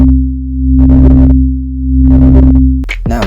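A steady synth tone in LMMS swells and dips in volume in slow, smooth waves driven by an LFO, with faint bursts of higher overtones at each peak, ending in a brief glitchy click.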